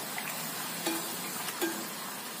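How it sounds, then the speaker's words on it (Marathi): Puris deep-frying in hot oil, a soft continuous sizzle with a couple of brief splashy accents as oil is ladled over them, fairly quiet and without talk. "थोडीशी वर आल्यानंतर त्यावरती आपण तेलाचा मारा करायचा."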